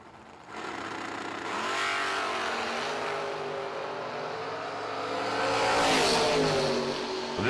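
A Pontiac Firebird and a Chevrolet Camaro launch side by side at a drag racing event, their engines roaring loudly and swelling as they rev and pull away, with no talk over the noise.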